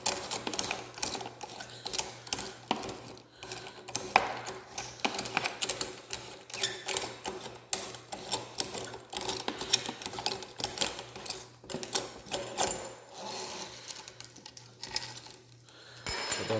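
Close, irregular metallic clicks and rattles come from a kitchen faucet's mounting ring being unscrewed by hand, a quick dense run of small scrapes and taps with no voices.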